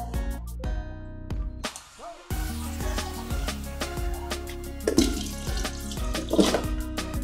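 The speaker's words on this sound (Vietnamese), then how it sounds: "Mình ngâm với nước muối xong rồi thì mình sẽ rửa sạch lại với nước lạnh" Cold tap water runs and splashes over mushrooms being rinsed in a sink after a salt-water soak, with close clattering knocks and shifting splashes throughout.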